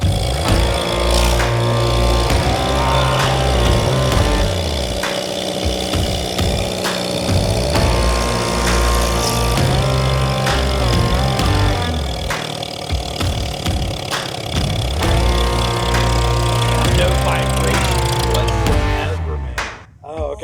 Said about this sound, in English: As soon as this thing started up, you could tell it was definitely no Kawasaki engine.